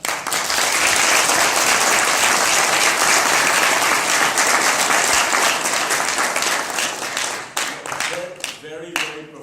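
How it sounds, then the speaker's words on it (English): Audience applause after student presentations at a Walmart case challenge, a loud sustained burst of many hands clapping that thins toward the end as a few voices begin talking. "You all deserve a round of applause"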